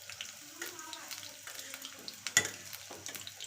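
Onion bhaji fritters fry in hot oil, a low close sizzle broken by scattered bubbling pops and a sharp clink midway, with faint background voices.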